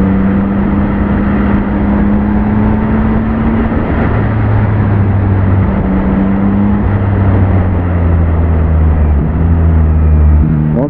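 A 2021 Yamaha MT-09 SP motorcycle engine with quick shifter drones steadily, its pitch rising and falling through gear changes, with constant wind rumble buffeting over it throughout.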